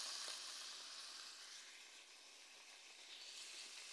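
Green beans (ejotes) are sautéed in a pan for mole de ejotes, giving a quiet, continuous sizzle and hiss of frying that fades slightly and then swells again, with no voices.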